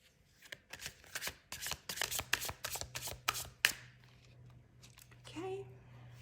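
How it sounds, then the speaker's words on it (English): A deck of tarot cards being shuffled up close, a rapid run of crisp riffling snaps lasting a few seconds, followed by quieter handling and a brief voice near the end. "let's just focus on the shuffling."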